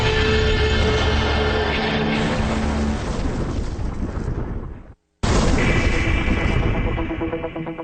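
An anti-armor landmine detonates in a heavy, roaring blast that rumbles on for seconds, cuts out abruptly, then bursts back in with another loud, sustained boom.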